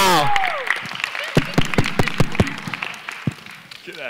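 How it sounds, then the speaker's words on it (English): An audience at a leadership conference breakout session claps in scattered, uneven beats that thin out, with cheering voices and speech mixed in over the applause. "Give them a round of applause"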